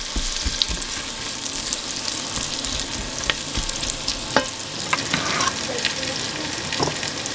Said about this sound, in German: Darin brate ich jetzt die Zwiebeln und den Knoblauch an.